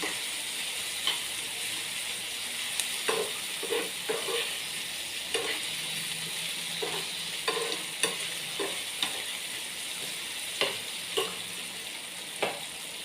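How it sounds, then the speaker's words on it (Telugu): Cooked onions and tomatoes for a spicy chicken curry being scooped from a pan, with repeated light scrapes and taps of a spoon against metal over a continuous soft sizzling hiss. "ఈ ఉల్లిగడ్డలు టమాటాలు ఒక బౌల్లోకి తీసుకోవాలి"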